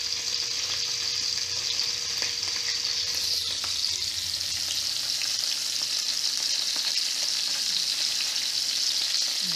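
Marinated steak searing in a hot pan gives a loud, steady, hissing sizzle that fills the whole stretch, close up and unbroken, with a few faint clinks beneath.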